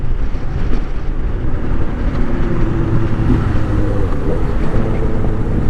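A motorcycle engine drones steadily on a test ride, a loud, continuous low growl under gusting wind rush, with no talking.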